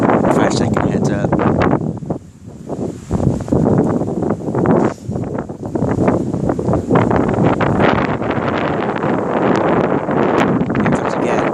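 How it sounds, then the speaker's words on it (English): During a passing thunderstorm in Corpus Christi, Texas, strong wind gusts roar through trees and batter the microphone with loud, shifting rushes, and a person talks over the noise. "whenever there's a big gust of wind, you can hear it through the trees."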